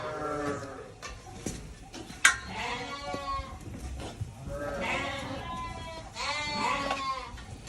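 Several Merino lambs, about 45 to 50 days old, bleat repeatedly at vaccination time, their wavering cries overlapping nearby amid light barn noise and a sharp knock.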